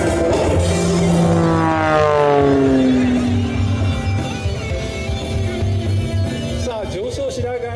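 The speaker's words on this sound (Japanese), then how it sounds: "さあこれは機体を斜めに回しましたよ" An Extra 330SC aerobatic propeller plane rolling through air show maneuvers, its engine note sliding up and down in pitch as it turns, loud and continuous, while a commentator talks over it.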